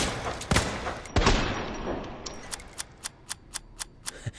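Ada Wong's personal pistol from Resident Evil 2 Remake fires a close burst of two loud shots, then settles into a steady run of about nine sharp, evenly spaced shots with bright metallic clicks between them.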